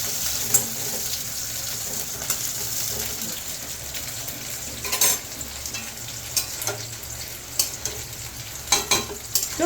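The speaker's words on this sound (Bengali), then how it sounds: "এবার খুব ভালো করে এটাকে কষবো, নামানোর আগে ঘি গরম মশলা দিয়ে দেবো, একটু উচ্ছেটা ভাজা হচ্ছে" Bitter gourd and other vegetables with chili powder stir-fried in a pan: a constant oily sizzle broken by repeated scraping strokes of a spatula, fairly close and loud, with no talking.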